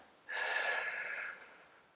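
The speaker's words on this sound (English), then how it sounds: "I invite you to center yourselves by taking a few deep breaths in and out." A single deep breath drawn in and released as a prayer begins at a Sunday worship service, a soft, airy rush lasting about a second, close and clear with no talking.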